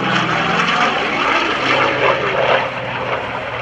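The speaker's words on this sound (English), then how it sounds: "so Dr. Stan Musick is now flying that Corsair for you" An F4U Corsair propeller airplane drones loudly and steadily overhead at an air show, its engine roar holding close and constant before easing slightly at the end.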